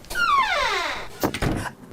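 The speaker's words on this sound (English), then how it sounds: "Oh, you closed the door on my fingers." A door swings shut with a long descending squeak, then lands with a couple of dull thuds and a brief rattle as it closes on someone's fingers.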